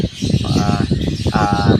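Several birds in breeding season call close by in a continuous busy chatter of overlapping chirps and warbling notes, with no pauses.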